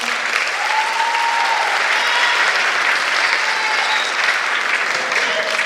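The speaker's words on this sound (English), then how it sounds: "Can I get another round of applause for her?" An audience applauds steadily at a talent and tribute evening after a sung performance, a dense, even patter of clapping that holds at full strength for several seconds.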